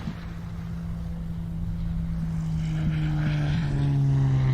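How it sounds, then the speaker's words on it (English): Single-engine propeller aerobatic Bonanza flying at the SUN 'n FUN air show, a steady droning engine tone that swells slightly louder and shifts pitch toward the end, with no talk. "Jim continues to be amazed at the response that he gets when flying the Bonanza."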